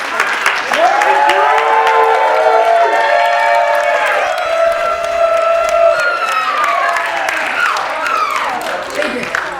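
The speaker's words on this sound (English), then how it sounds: "a round of applause." Wedding guests clap and cheer after a toast, a dense burst of applause with whoops and raised voices that holds for several seconds, then slowly thins out.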